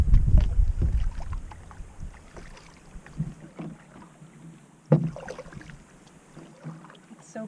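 A canoe being paddled on a quiet lake in Algonquin Park at sunset: close, soft paddle strokes and water swishes arrive a few seconds apart, with light wind noise in between.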